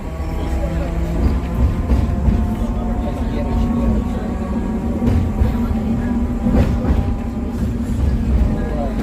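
A Hong Kong tram runs along a tram-only lane, giving a steady low rumble with rattling and humming undertones throughout, heard from inside the car. A voice talks over the noise.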